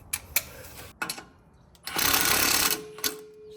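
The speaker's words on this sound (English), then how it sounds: "Now I'm gonna use a 9/16 inch socket and wrench to get this little guy on." Short bursts of a power driver or impact tool turning a 9/16 inch socket on a U-bolt during a Jeep Gladiator lift kit install, a few quick taps then a longer sustained run, close and fairly loud.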